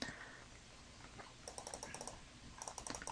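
Quiet clicking of a computer keyboard while playing Runescape comes in two short bursts of rapid keystrokes, close but faint, with near silence between them.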